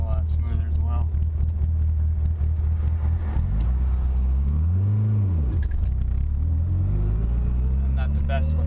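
A Mitsubishi Evo 8/9 on a stock ECU driving steadily with a loud, close engine drone that dips and climbs through a gear change, someone talking over it.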